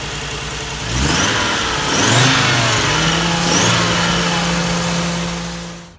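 An Audi 4000s Quattro with an inline five-cylinder engine revs up from idle several times, the pitch climbing and falling in strong close bursts before settling back to a steady hum, with no talking.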